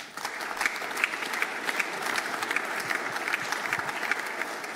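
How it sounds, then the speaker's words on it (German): A hall audience at a formal ceremony for the 100th anniversary of the Austrian federal constitution claps in sustained, dense applause, even and moderately loud throughout. "Applaus"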